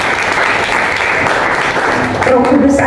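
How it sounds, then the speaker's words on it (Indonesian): Church congregation at a Sunday service clapping loudly and continuously, a dense sustained round of applause with some voices mixed in near the end. "Yang percaya setuju beri tepuk tangan yang meriah."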